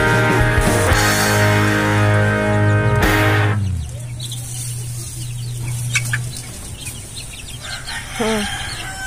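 Farm chickens, including game fowl and Rhode Island Reds, cluck and call loudly close by, with a long crow-like call at the start and quieter clucks and chirps afterwards.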